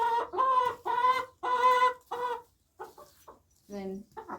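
A young American Bresse chicken clucking up close, a run of loud repeated squawking clucks followed by softer, broken calls with short pauses.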